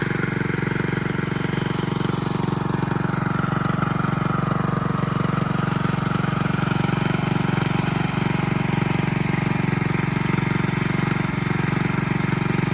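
A small engine runs steadily at a constant, loud idle with a low droning hum and rattling buzz, unchanging throughout.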